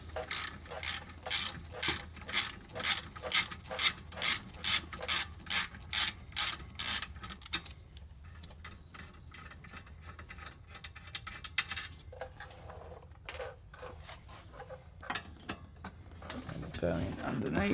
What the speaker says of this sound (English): We need a ratchet with a 17mm socket, and there's 2 bolts on the back, and we're going to take these off now.